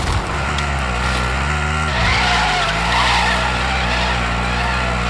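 A car drifts with a loud, sustained tire skid in Call of Duty Warzone, the engine droning underneath as the squeal shifts in pitch while it slides, close and continuous.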